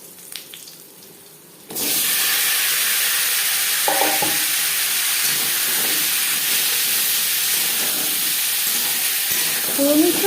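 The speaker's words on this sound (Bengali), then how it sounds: "কুড়ি পঁচিশ সেকেন্ড পাঁচফোড়ন তেজপাতা ভেজে নেওয়ার পর দিয়ে দেবো আলু" Potatoes go into hot oil with panch phoron and bay leaf and start to sizzle, and the hiss stays loud and steady. A few soft scrapes and stirring clatters sound close by over it.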